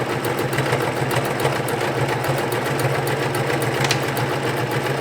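A sewing machine stitching through four layers of denim on white jeans, a loud steady rapid mechanical whir and needle clatter running continuously.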